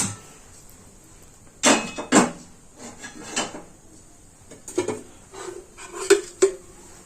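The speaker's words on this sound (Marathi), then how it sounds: "तर आता मी इथे गॅस चालू करून कढाई ठेवते गॅसवर." A kadhai set down on a gas stove: a few loud metallic clanks and knocks, separated by brief pauses, close by in a quiet kitchen.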